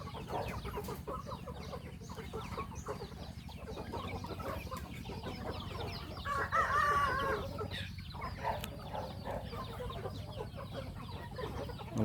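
Burmese chickens roam free in a rural yard, clucking and calling in a continuous busy chorus. Near the middle a rooster crows once, louder and closer. Nobody speaks.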